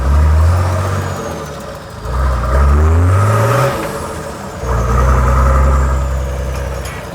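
A Nissan Patrol with a coil cab rumbles while driving, its engine rising and falling through a few revving pulls and gear changes, loud and close from inside the cabin.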